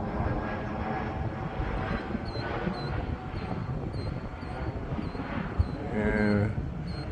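An RC model airplane, repaired after a crash, revving to full throttle for lift-off: a continuous high engine whine holding steady and swelling slightly toward the end, with someone talking over it.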